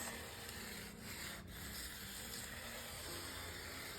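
A Creative Memories circle maker blade cuts paper rings, a soft continuous scraping rub with a couple of faint ticks, quiet and close with no talking.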